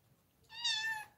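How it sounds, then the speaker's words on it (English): A house cat gives one clear, drawn-out meow indoors, close and moderately loud, rising and then fading after a quiet moment. "Meow."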